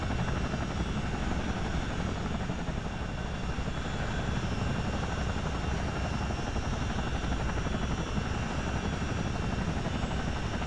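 A CH-47 Chinook helicopter in a flight simulator game holds a hover above the Thames, its steady, dense rotor and engine roar continuous and loud throughout with no talk.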